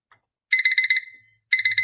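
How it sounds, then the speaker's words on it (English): An alarm clock rings in two bursts of rapid electronic beeps, first four pulses and then, after a short gap, three more, loud and clear against silence. "Why have you brought that alarm clock in?"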